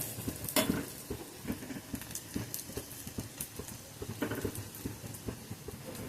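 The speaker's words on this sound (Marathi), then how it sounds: "याप्रमाणे आपल्याला तळून घ्यायचे आहे." Potato lollipops deep-frying in oil, a busy crackling and bubbling sizzle with rapid irregular pops throughout, moderately close.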